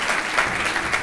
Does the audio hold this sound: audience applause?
yes